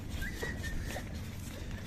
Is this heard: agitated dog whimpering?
yes